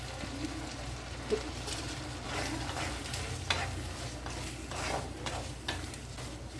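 Onions and garlic sautéing in a hot pan, being stirred for fish kuzhambu, give a steady close sizzle and frying hiss, broken by scraping stir strokes and light clatter throughout.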